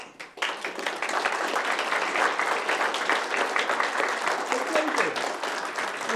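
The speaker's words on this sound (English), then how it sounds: "Please join me in a round of applause for Miss Mandy." A round of applause fills a city council meeting in Fountain, starting abruptly and holding as a dense, even wash of clapping from the room for several seconds.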